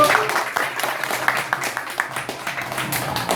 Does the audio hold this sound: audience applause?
yes